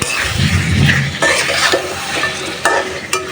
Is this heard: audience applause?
no